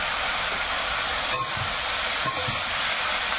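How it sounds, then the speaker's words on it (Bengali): Snake gourd and shrimp fry frying dry in a pan with cumin powder, a steady sizzle throughout broken by two brief stirring scrapes, close and fairly loud with no talk. "আর একটু নেড়ে চেড়ে শুকনো করে ভেজে নেবো"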